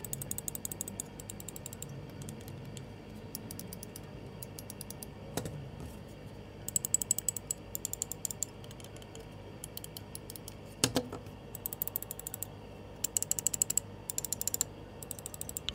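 Light mouse switches on a Beast X 8K and a Beast X Mini with Huano transparent blue shell pink dots switches click in quick, faint bursts, separated by quieter pauses.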